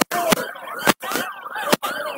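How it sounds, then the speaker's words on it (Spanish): Ambulance sirens wail loudly and close on a city street in Cúcuta during a blockade, rising and falling in a fast repeating cycle with sharp breaks between sweeps. "Vienen dos ambulancias."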